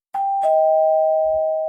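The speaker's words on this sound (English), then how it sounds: "Oh, another doorbell." A doorbell rings once during a live futures day-trading stream, a two-tone chime whose second note holds and slowly fades, loud and clear with no talk over it.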